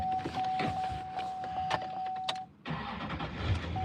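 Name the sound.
pickup truck engine starting up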